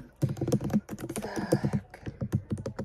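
Rapid, uneven typing on a computer keyboard, dense close keystrokes clattering throughout with brief pauses, no talking.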